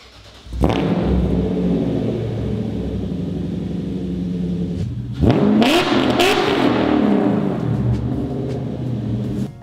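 BMW M62 V8 swapped into a VW Golf MK3 with a straight-piped exhaust, starting up into a loud idle rumble, then blipped into rising and falling revs partway through, close and unaccompanied by talk.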